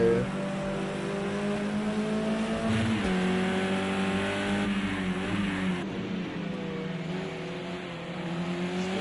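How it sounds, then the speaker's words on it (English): A race car engine in a Sonoma racing game drones at fairly low revs, a steady loud buzzing tone rising and falling slightly with gear changes, no talking. "Sounds like he's using quite low revs."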